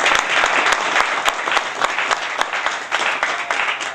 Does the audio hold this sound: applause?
yes